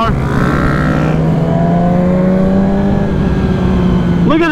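A Kawasaki Ninja H2 motorcycle at a car meet drones with a loud, sustained engine note that climbs gradually in pitch and then sharply revs near the end, with talk mixed in.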